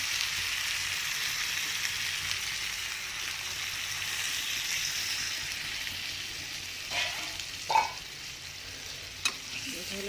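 Water poured into a chicken and pointed gourd curry cooking in oil, giving a steady close sizzle and bubbling hiss with a few soft clinks near the end.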